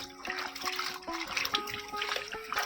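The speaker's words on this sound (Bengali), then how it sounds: "এই যে পুঁই শাকগুলা কাটার আগে ধুয়ে নিচ্ছি" Running water rinses Malabar spinach (pui shak) leaves, a close, steady splashing trickle with small bursts as the leaves are moved. A faint melodic tone sits underneath.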